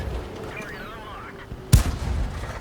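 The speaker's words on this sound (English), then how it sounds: "the Chinook Kai is definitely shooting at him" A single heavy tank cannon shot booms in a World of Tanks battle, one sharp blast followed by a rumbling tail over a low background hum, with commentary-like voice present.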